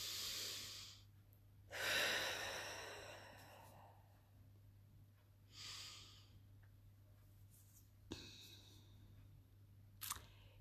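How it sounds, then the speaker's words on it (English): Slow deep breaths drawn in and let out during a guided relaxation exercise, a few long soft inhales and exhales, close and quiet, with short gaps between them. "Deep breath."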